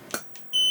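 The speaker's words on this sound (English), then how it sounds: "Beep is on that one, so when it beeps, it's that unit." A Godox AD300 Pro flash unit gives a single short, high electronic beep as it fires, preceded by faint soft clicks.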